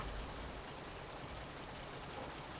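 Steady rain patters and hisses evenly throughout, a dense continuous wash with no voices.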